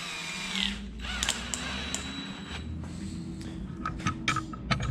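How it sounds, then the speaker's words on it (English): A power drill with a 1/2 inch bit boring holes in a part held in a vise for an Ariens snowblower impeller kit, loud whirring bursts up close with short pauses between, no talk. "drill these out with a 1/2 inch drill bit"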